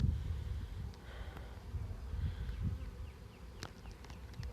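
Honey bees from a swarmed beehive hum faintly outdoors around a tree limb, a soft continuous drone with light background rustle.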